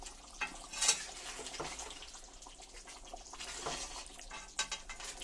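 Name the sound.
stirring Handi chicken curry in pot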